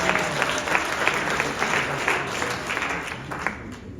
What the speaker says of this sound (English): Can you clap hands for yourselves?